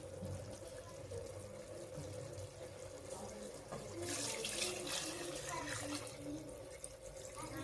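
Water runs steadily into a pot of half-cooked chicken for a Kongu-style white chicken biryani, a soft continuous pour with a fuller, louder splash in the middle.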